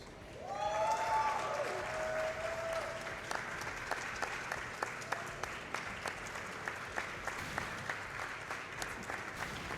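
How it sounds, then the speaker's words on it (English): Crowd applause at Summer Games Done Quick 2017 after a donation milestone, a dense wash of clapping that swells quickly, then thins to scattered rhythmic claps, heard at a distance with a brief tonal sound near the start. "you hear the crowd there?"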